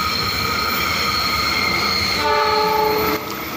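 A KA Pangrango passenger train runs through a sharp curve on the Bogor–Sukabumi double track near Batulis, with a loud continuous wheel-on-rail rumble and high sustained squealing from the rails, growing stronger late in the pass.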